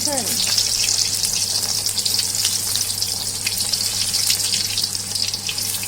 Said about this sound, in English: my husband is doing the frying when I'm trying to video this